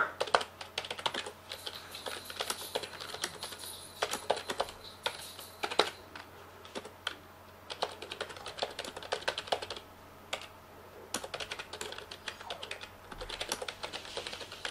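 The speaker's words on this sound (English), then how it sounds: "now we're going to move on to the noise of the typing" Typing on a Corsair K57 keyboard: rapid, uneven clusters of close keystroke clicks and clacks with brief pauses between bursts, fairly quiet and with no voices.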